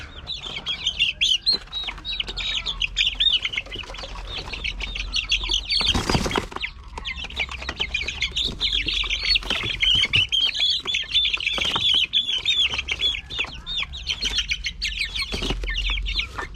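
Six chicks packed in a box give dense, continuous high peeping while wings flap in brief bursts, including one loud flurry, all close and without talking.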